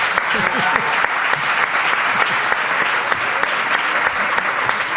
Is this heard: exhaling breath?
no